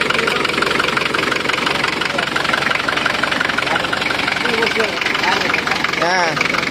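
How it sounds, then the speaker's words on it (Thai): A single-cab Nissan pickup truck engine idles close by, a loud, steady rumble with a rough knocking edge throughout, while someone talks over it. "เครื่องสิประมาณนี้เด้อเครื่องสิประมาณนี้นะครับ"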